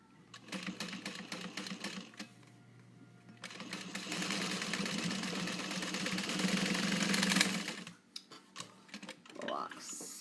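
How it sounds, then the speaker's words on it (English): A sewing machine stitching a pouch seam makes bursts of rapid mechanical chattering, first in short runs and then in one longer steady stretch before stopping. Some speech is mixed in. "I'm going to come back down to 1/4 of an inch"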